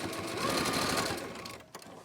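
A sewing machine stitches a small dart at the top of a cloth mask, a close, rapid mechanical chatter that runs for about a second and a half and then stops with a brief clunk.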